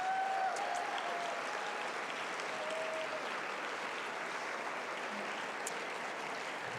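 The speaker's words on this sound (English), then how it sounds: "Please give them a round of applause." Audience applause fills a summit hall, a steady dense wash of many hands clapping continuously, fairly close and even in level throughout.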